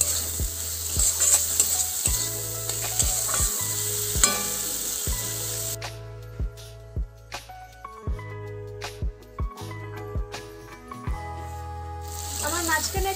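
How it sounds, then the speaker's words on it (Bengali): Potatoes frying with spices in a pan, a continuous sizzle broken by repeated scraping strokes of a spatula stirring the mix, close and moderately quiet, with a voice talking at times. "ভেজে রাখা আলুটা দিয়ে দেব, মশলার সাথে আলুটাও কষিয়ে নেব"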